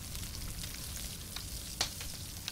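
Potatoes cooking over a fire in the survival game Stranded Deep give a steady, low-level sizzling crackle throughout, with a couple of brief sharper pops near the end and no talking.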